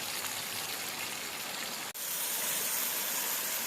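A campsite stream rushes and splashes in a steady broadband wash, loud and close, with a brief dropout midway before the flow resumes unchanged.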